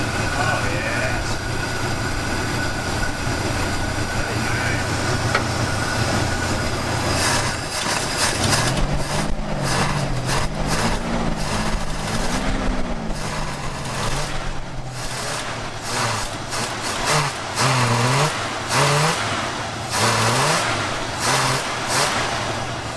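An unrestored 1972 Oldsmobile Cutlass engine cranks with a steady whirring drone, then catches and runs with rising and falling revs. It is loud and close, with an uneven idle.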